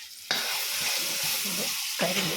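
Blended ripe jackfruit frying in a pan as it is stirred, a loud, close sizzle that surges when the paste hits the hot pan and keeps crackling under repeated scraping strokes of the spoon.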